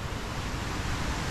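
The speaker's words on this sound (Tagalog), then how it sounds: "Dinig po natin yung lagaslas ng agos ng tubig galing sa bundok." Steady broadband rush of water flowing down from a mountain beside rice paddies, loud and continuous throughout with no voices.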